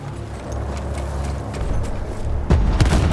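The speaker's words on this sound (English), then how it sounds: "Cannone campale! Cannone campale!" A field cannon fires in Battlefield 1 amid battle noise in the Italian Alps, with a heavy boom near the end over a steady rumble of combat.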